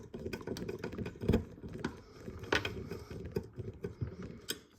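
Small screws are tightened into the chassis of a Nissan Skyline GTR scale model kit, making faint irregular clicks, scrapes and ratcheting taps close by, with no voices.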